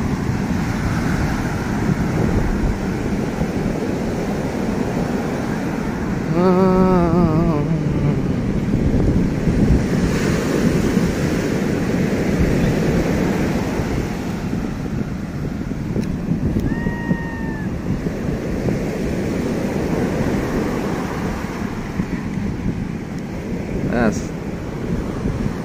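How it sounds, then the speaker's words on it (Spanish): Heavy ocean surf at Barra Vieja beach pounds and churns continuously with wind buffeting the microphone; a few brief voices and faint chirps sound in the background. "Está fuerte el oleaje, mis amigos."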